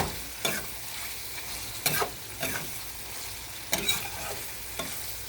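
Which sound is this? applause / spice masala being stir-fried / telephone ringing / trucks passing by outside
spice masala being stir-fried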